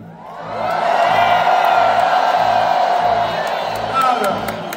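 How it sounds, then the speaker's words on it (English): A concert crowd in a Rome auditorium cheers loudly at a show, a sustained roar of whoops and shouts that swells and holds, with scattered claps. "Do me a favor, cheer really loud."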